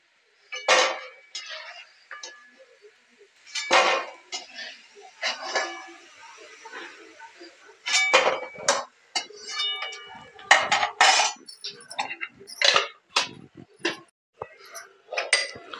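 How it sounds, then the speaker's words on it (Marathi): Fried soya sticks lifted out of a frying pan with metal utensils, giving sharp clinks and scrapes against the pan in scattered bursts, close up, with a voice talking between them. "सोया स्टिक आपले तळून झालेले काढून घेऊया"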